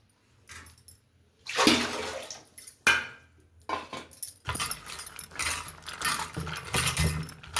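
Raw peanuts being washed in water, with bursts of sloshing, splashing and rattling as the nuts are stirred, coming in irregular surges, close and fairly loud.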